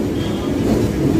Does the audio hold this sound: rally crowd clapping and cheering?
no